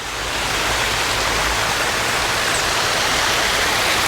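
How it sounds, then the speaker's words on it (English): A small waterfall tucked into a corner of a garden nursery makes a constant, even, hissing rush of splashing water, close and steady throughout with no other sounds. "another waterfall tucked away in this corner"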